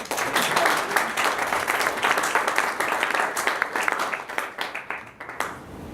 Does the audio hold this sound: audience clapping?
yes